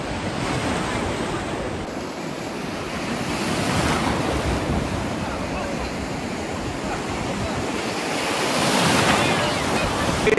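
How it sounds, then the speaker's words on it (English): Rough ocean surf at Myrtle Beach roars continuously and loudly, with waves breaking in broad swells and heavy wind buffeting the microphone throughout. "Waves are rough."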